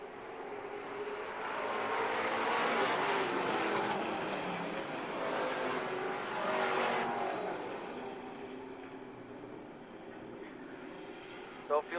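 Race cars roar around an oval track in a sustained, distant engine wash that swells and fades as the field passes, under a commentator's voice.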